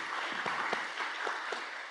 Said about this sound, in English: Can I ask everyone to give a round of applause